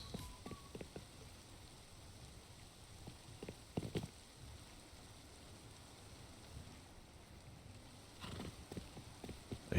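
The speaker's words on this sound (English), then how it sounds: "I hear a horse." Faint clip-clopping horse hooves in a video game come in scattered bursts over a quiet, hissy background, with a couple of louder clusters toward the end.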